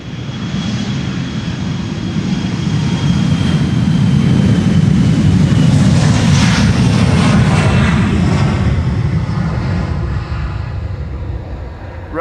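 Embraer 175 jet taking off from the Polderbaan runway 36L at Amsterdam Schiphol on a sunny morning, a loud broad engine roar building and holding steady before slowly fading, with no talk.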